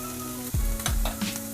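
Onions, green chilies and tomatoes frying in a pan, a steady close sizzle with a couple of soft stirring scrapes, no talk.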